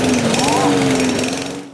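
A lawn mower engine drones steadily in a churchyard in Nyíregyháza where boys are raking leaves and sweeping, a loud continuous motor hum with narration over it.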